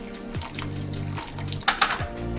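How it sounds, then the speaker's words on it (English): Hot water poured into a bowl while mixing a home remedy for colds, flu and coughs, a steady running-liquid stream with a few clinks of dishes near the end, close and moderately loud. "I have hot water here, so I'm just gonna mix hot water together."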